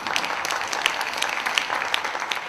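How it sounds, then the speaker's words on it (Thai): An audience claps steadily to welcome a singer performing with a Thai military-style concert band, a dense, even applause close by with no voices. "ขอเสียงปรบมือต้อนรับด้วยนะครับ"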